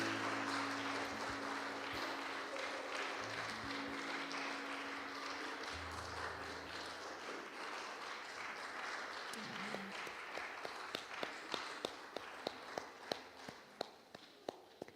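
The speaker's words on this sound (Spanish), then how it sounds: "Vamos a dar un aplauso a nuestro Dios." Applause in a church service, a dense wash of many hands clapping that gradually thins into scattered, separate claps near the end, quiet and somewhat distant.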